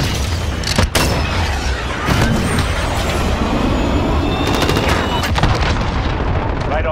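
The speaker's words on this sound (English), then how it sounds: "Cruise missile, go for launch." Cruise missile launch and explosions in the Call of Duty Modern Warfare video game: heavy booming blasts and a rumbling roar fill the scene, with sharp bursts near the start and again later, loud and close throughout.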